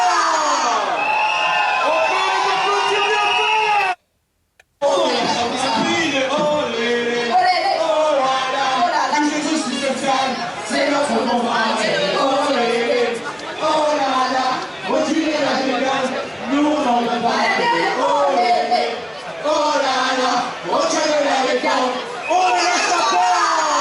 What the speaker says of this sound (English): the hype men and women that get the crowd chanting and stuff